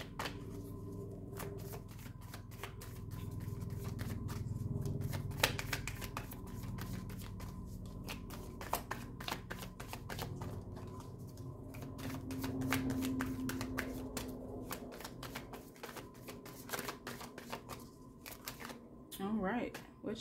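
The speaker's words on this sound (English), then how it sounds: "Let's get one more shuffle" Rapid crisp riffling and flicking of cards, repeated in bursts for a long stretch, close by, with some soft talking in between.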